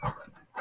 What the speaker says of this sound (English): that was the dog wanting to get up here with me